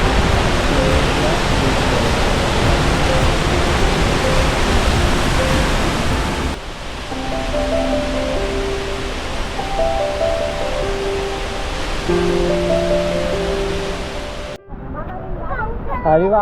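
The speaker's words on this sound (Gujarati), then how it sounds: "આ છે ટોપ લેવલ, અહીંયાથી આ ધોધ પડે છે, નદી આવે છે." Broad, steady roar of falling water at Girmal waterfall on a hill river in the Dang region, loud and continuous, thinning after a cut midway; faint tonal hum and a brief trailing sound near the end.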